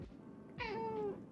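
A pet cat gives one short, clear meow, fairly quiet and close, with nothing else audible around it.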